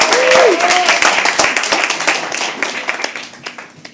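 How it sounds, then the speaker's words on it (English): Lively clapping from a small audience at a live poetry open mic at the Habitat, loud at first and thinning into scattered individual claps, with a brief voice and whistle-like tone early on. "Can we please have another round of applause for him?"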